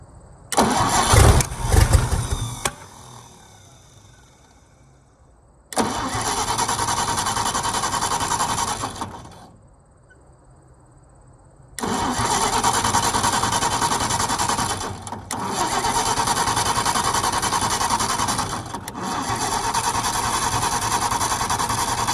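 An old 1954 International R110 truck engine cranks and sputters, then catches and runs in long loud stretches, revving up and down with short pauses between runs.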